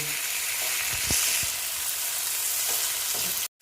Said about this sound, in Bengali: তারপরে দিচ্ছি টমেটো দিয়ে এটা আমি এখন একটু ভালো মতন ভেজে নেব